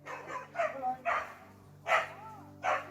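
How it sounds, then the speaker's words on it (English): Several dogs bark in short separate bursts at a moderate distance, irregular single woofs and yips against a quiet background. "now there's loads of dogs up there"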